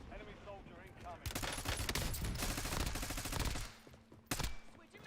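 Gunfire in the video game Call of Duty Warzone: sustained automatic bursts and rapid shots over about four seconds, loud and dense, with a fresh burst near the end. Game voice lines are heard alongside.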